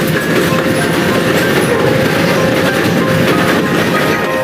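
An old passenger train carrying people to a psychiatric hospital rumbles along the rails, with loud continuous wheel noise and a rhythmic clatter of wagons, and no voices.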